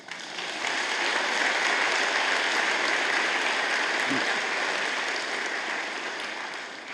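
Graduates at a BCIT convocation applaud themselves, a dense, sustained wash of clapping from a large crowd that swells quickly, holds steady for several seconds and begins to fade at the end.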